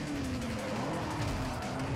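A 2005 Subaru Impreza WRX STI in the racing game Forza 4 skids, its tires squealing in a rising and falling whine over a steady engine roar that stays loud throughout.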